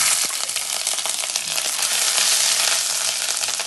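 Crushed ginger dropped into a very hot pan with fenugreek seeds for a simple chili curry gives a steady, close hiss and crackle of sizzling throughout, with no talking.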